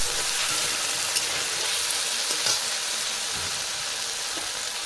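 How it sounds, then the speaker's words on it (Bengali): Chunks of taro sizzle and crackle in hot oil as they are stirred in a pan, a steady close frying hiss with occasional scrapes, no voices. "এটাকে ভালো করে নেড়ে ছেড়ে নেবো, যাতে তেলটা দিয়ে সব জায়গায় লেগে যায় এবং ভালো করে ভাজাটা হয়"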